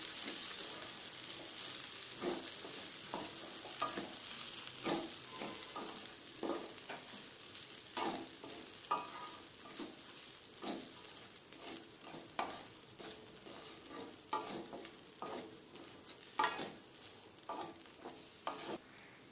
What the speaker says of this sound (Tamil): இப்போ இதை நல்லா கிளறிக்கலாம்